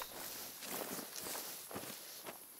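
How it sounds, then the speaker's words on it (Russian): Footsteps in the hunting video game The Hunter: Call of the Wild, set in a savanna. Several soft, crunchy steps come in an uneven rhythm at moderate distance over a quiet background, with no speech. "Или это просто другие шаги?"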